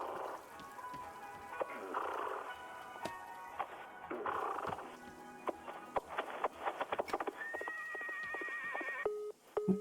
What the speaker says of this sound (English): Why does it sound like a horse in here?